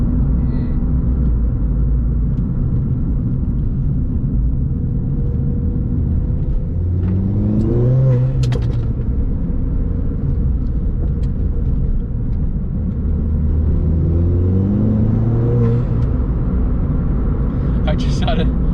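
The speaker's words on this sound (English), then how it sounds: "I just had a little acceleration there, and then you can just feel it just tugs the front end around." A Ford Fiesta ST with a plated differential rumbles from inside the cabin, its engine note rising through two acceleration pulls with audible gear changes between them, loud and close under a steady road drone.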